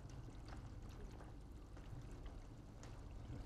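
Water pouring out during artisanal distillation of lavender (espliego) essential oil, a steady low broadband wash with faint splashy flecks, continuous and fairly quiet throughout.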